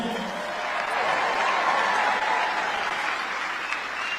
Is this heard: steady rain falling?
no